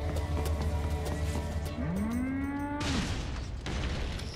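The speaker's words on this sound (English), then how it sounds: "why is it making cow sounds?" Cow moo from the Metal Gear video game, a single long, low, rising-then-falling bellow lasting about a second, set against steady, dense game background noise and faint thuds.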